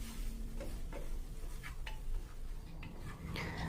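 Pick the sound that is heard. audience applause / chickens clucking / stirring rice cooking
stirring rice cooking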